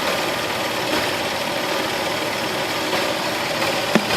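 A car engine idles with a spark plug problem on one cylinder, caught close up as a steady, loud mechanical drone with a faint uneven knock, alone without voices.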